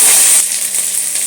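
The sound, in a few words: sautéing cumin, curry leaves and red chillies in oil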